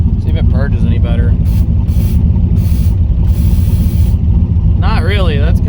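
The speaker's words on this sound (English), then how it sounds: "We'll see once I heat it up if it starts spraying nitrous out" Bursts of spraying hiss from a car's nitrous system purging, over a steady low idle rumble near 800 rpm, with hissy surges in the middle and voices around it.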